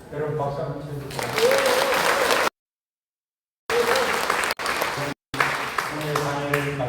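Audience applause in a humanities lecture hall, a steady broadband patter interrupted by two abrupt gaps of silence, with talk running over parts of it.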